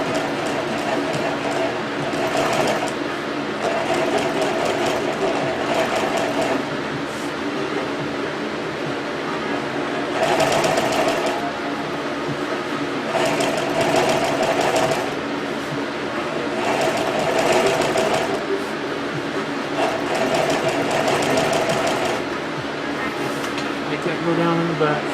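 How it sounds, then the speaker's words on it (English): A sewing machine stitches golf cart seat upholstery slowly in repeated bursts, each a few seconds long with pauses between, while someone talks during the work. "We'll sew it slow, because we want it right as we can get it."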